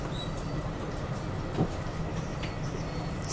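A steady, close rumble fills the inside of a moving train carriage, with continuous low track and wheel noise and a faint passing click partway through. No one speaks.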